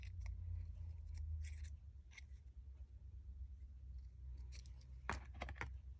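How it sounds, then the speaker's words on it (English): Scissors snipping between paper flower petals toward the center, several short crisp cuts in quick bursts close up, with a low background rumble and no talking. "we're going to cut in between each petal towards the center, just ever so slightly"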